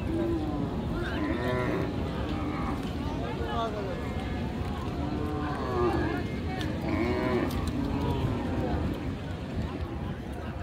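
Cattle low and moo at a busy livestock market in Mymensingh, where cows with calves are on sale; the calls rise several times over a steady crowd din, with people talking throughout.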